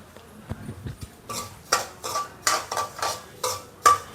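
Semolina roasting in a little oil in a pan, stirred with a metal spatula that scrapes and clinks against the pan in a steady, close, fairly loud rhythm of about eight strokes.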